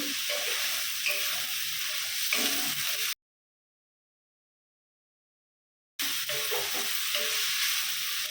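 Paneer fried rice stir-fried in a pan, a steady sizzle with stirring scrapes, broken by a gap of silence before the frying sound resumes, with no talking.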